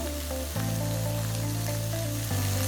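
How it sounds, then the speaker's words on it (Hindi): Vegetables sauté in a pan with oregano, giving a steady close sizzle that jumps louder partway through as more goes in, with a faint hum underneath. "वेजिस को यहाँ हम सौते करेंगे।"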